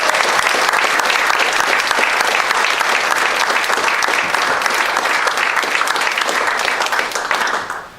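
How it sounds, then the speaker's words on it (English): An audience at a veterans' appreciation breakfast applauds the veterans, with loud, sustained clapping from a full room that holds steady for several seconds, then tapers off at the end. "Please join me in applause of these great veterans."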